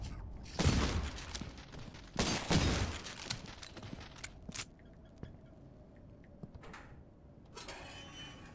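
A few gunshots in a video game, two loud, sharp bursts close together followed by scattered fainter clicks and pops, then a quieter stretch with low background noise.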